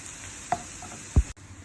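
Chicken pieces frying in a pan, stirred until golden brown; a steady sizzle runs throughout with two brief stirring scrapes, one sharper near the end, close and fairly quiet with no talking.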